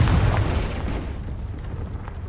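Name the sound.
explosion from Confringo spell in the video game Hogwarts Legacy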